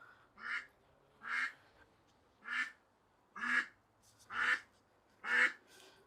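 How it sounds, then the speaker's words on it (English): Duck quacking six times in a steady rhythm, each quack a loud, nasal, close call separated by short quiet gaps, with no talking over it. "What are you quacking for? What's wrong? What's wrong with you? Why are you quacking?"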